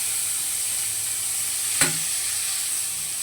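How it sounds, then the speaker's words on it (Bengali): Chopped onion and green chilli sizzle in hot oil left over from frying fish, a steady soft crackling hiss with one sharp pop partway through and no talking. "এবার এটাকে একটু লাল লাল করে ভাজবো"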